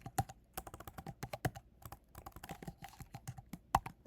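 A formula being typed on a computer keyboard for a spreadsheet sum, heard as a close, uneven run of crisp keystrokes with brief pauses and no talking.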